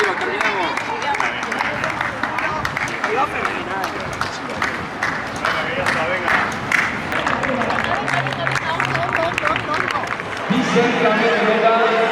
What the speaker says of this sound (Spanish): el podio tiene ese aplauso para nuestros veteranos